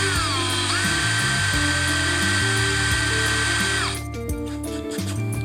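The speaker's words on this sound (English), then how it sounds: "Now we're going to go in for the countersink bit." A power drill with a countersink bit cutting a screw hole in polycarbonate: a loud, steady high whine that holds its pitch, then drops and roughens near the end as the bit bites and slows.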